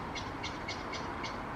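A bird outside calls in a steady series of five short, evenly spaced chirps, faint and distant over a constant background hum.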